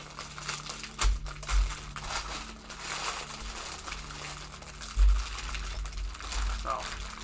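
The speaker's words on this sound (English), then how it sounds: "So, now the crinkling of plastic noise." A plastic bag holding Lego pieces from a Sesame Street set crinkles and rustles up close, with a few louder handling thumps along the way. Faint voices sit in the background.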